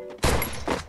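Two heavy gunshot bursts from the Free Fire battle-royale video game, the first sharp and loud, the second slightly weaker after a short pause, both punchy and close with no voices.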